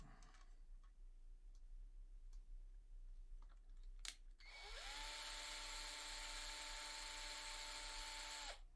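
A power drill spins up and whirs steadily for several seconds, backing screws out of a guitar body during a pickup swap, after a few soft ticks and a sharp click; close and fairly quiet, with no speech.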